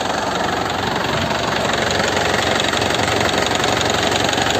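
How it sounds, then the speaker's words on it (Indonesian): Isuzu Panther LM Smart Turbo diesel from 2009 with a manual gearbox idles steadily nearby, a constant, even engine drone with no change in pace throughout. "Jadi suaranya, stasionernya juga enak ya, stabil stasionernya, berarti mesinnya ini masih waras."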